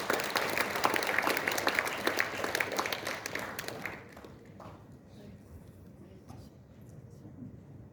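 An indoor crowd at an award ceremony claps loudly for about four seconds, then the applause drops off, leaving a few scattered claps and room noise.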